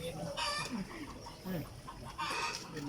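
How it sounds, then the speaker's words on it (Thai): A bantam chicken clucks and squawks a few times nearby, with faint voices and background chatter around it. "ไก่เตี้ยตัวนึง"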